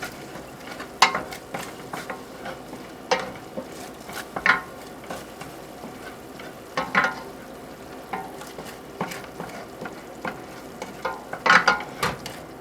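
Sauce for Singapore noodles stirred around a pan, a spoon or spatula scraping and clinking in irregular bursts over a faint sizzle, close and fairly quiet with no talking.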